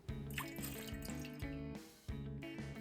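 Sake, mirin and soy sauce poured into a container for teriyaki sauce, faint trickling and splashing in several short bursts with brief gaps between pours, no talking.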